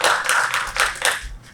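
Scattered clapping from a seminar audience welcoming the next speaker at a unification education forum, a few sharp bursts of hands that quickly thin out and stop, close and without talk.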